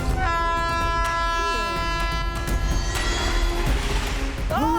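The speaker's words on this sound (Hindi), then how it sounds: "उस ट्रैक पर पैसेंजर ट्रेन राइट टाइम पर आती है सर" A passenger train approaches along the track with a steady loud rumble and clatter of wheels, and sustained horn tones sound over the roar.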